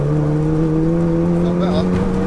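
A stage 4 Seat Leon Cupra pulls hard in 4th gear, its engine drone loud, close and steady as it climbs in pitch under sustained acceleration.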